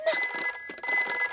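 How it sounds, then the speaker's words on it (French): A cartoon emergency telephone rings in short, bright electronic trills, loud and close, heard alone with no voices over it. "Oh, c'est le téléphone pour les cas d'urgence."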